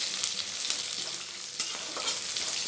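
Eggplant sizzles and fries in hot oil while being stirred in a pan for a mustard-style dish, a steady close crackle with scraping stir strokes and no talk.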